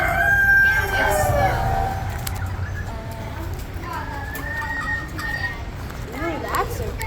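A rooster crows among the 4-H poultry pens at a county fair, one long cock-a-doodle-doo followed by softer clucking, set against a steady crowd and fair hubbub with children's voices in the background.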